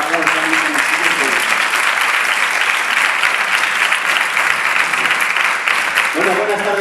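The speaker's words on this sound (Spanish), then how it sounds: "espero que un fuerte aplauso a él" Audience applause for a speaker at an education conference on adolescence, loud, steady clapping from a large room. A voice is heard at the start and again as the clapping fades at the end.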